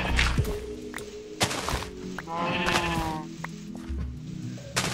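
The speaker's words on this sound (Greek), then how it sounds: "Μη, είναι πρόβατο." Sheep in Minecraft giving a wavering bleat mid-clip among thuds and block-hitting clicks, with game ambience around it.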